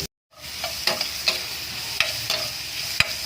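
Three white onions sauté in butter with garlic, a bright continuous sizzle punctuated by a handful of sharp spatula scrapes and taps as they are stirred, with no talking.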